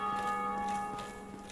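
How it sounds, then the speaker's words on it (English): Bells ring in Dark Souls Remastered, a steady layered chime of sustained metallic tones that hums on without a break, fairly quiet with no talking over it. "Why are those bells ringing?"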